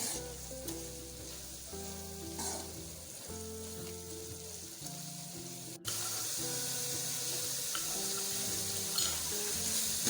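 Red chili powder masala for aloo qeema fries in a pan with a steady, close sizzle that runs through the whole stretch, alongside sustained tonal sounds in the background.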